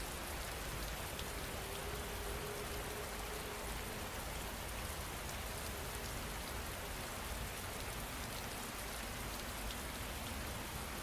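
Steady, soft rainfall with an even hiss and no breaks, alone and unchanging for the whole stretch.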